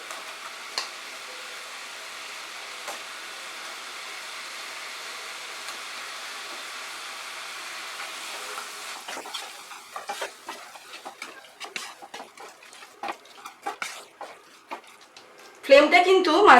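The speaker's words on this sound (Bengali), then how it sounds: "আমি মশলাটাকে কষাচ্ছি। এই সময়ই চিংড়ি মাছটা দিয়ে দিচ্ছি।" Masala sautéed with prawns in a pan over a medium flame, a faint steady sizzle that gives way to irregular scraping and stirring clatter, louder toward the end.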